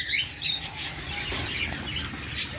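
Caged pet birds for sale, budgerigars, cockatiels and lovebirds, giving scattered high chirps and tweets over a faint background hum, moderately quiet and with no talk.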